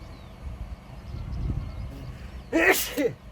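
A single sharp sneeze bursts out near the end, after a few seconds of quiet low background rumble.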